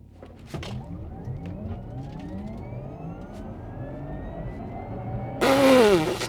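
Porsche Taycan 4S Cross Turismo electric car making a full launch from standstill up a slight hill, its synthetic engine note rising steadily in pitch with layered tones and a low road rumble, ending in a sudden loud burst.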